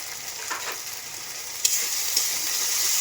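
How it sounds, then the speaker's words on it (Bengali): Masala with turmeric and salt frying in a pan, a loud steady sizzle with a couple of sharp spatula clinks, close and uninterrupted. "মশলাটা কষিয়ে নিলাম"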